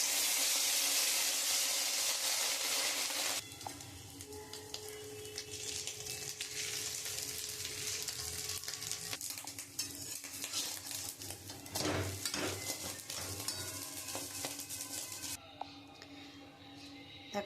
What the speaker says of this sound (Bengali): আমি কড়াইতে তেল দিয়ে দিয়েছি, এবারে মাছের ডিমটা দিয়ে দেবো।